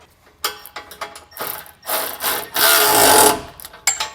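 A ratchet tightens 13 mm bolts and nuts on a base plate installation, producing several quick bursts of close, rapid clicking separated by short pauses, with no talking.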